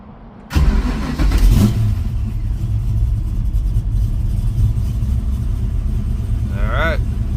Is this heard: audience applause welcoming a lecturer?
no